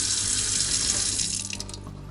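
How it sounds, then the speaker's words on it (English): An RV water pump runs as water rushes steadily from a tap at a campground, a constant hiss with low hum beneath, easing slightly toward the end. "you'll hear the pump running to keep the pressure going when you open one of the valves"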